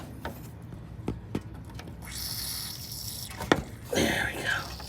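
Rusty coolant drains from the cooling system of a 1968 Ford LTD, splashing and trickling with bursts of liquid noise, while scattered knocks and faint voices come through.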